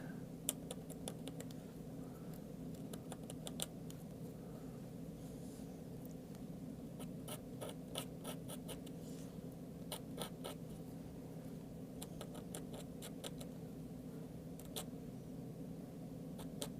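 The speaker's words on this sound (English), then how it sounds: "I'm just going to gouge the paper just to get the highlight that I'm after." Fine scratching and scraping of a blade gouging airbrushed paper to lift a highlight, a run of short, sharp, close ticks and scrapes in irregular bursts over a steady low hum.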